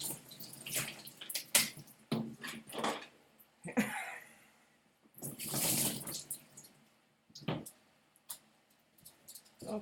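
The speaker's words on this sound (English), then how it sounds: "I'll just stand here and rinse it with this" Water from a tap splashes in uneven bursts while rinsing slime off an object, gushing surges alternating with quieter trickles and pauses, close by with no talking.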